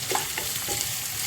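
Beans, carrot and capsicum fry in a pan, a close, even sizzle broken by a few quick stirring scrapes of the spoon in the first half.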